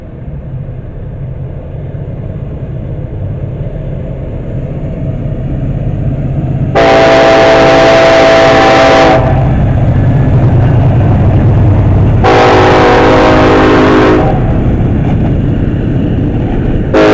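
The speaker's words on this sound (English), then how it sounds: "the second northbound Norfolk Southern is going past the Norfolk Southern that's still on the siding" A northbound Norfolk Southern freight train rumbles loudly past another Norfolk Southern freight waiting on a siding, with two long, blaring horn blasts over the continuous roar of rolling cars.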